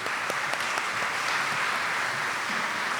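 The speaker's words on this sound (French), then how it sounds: "Je demande à l'Assemblée de les applaudir" Steady applause from a church congregation during a Sunday morning Catholic mass, a continuous even wash of many hands clapping throughout, fairly loud and with no talk over it.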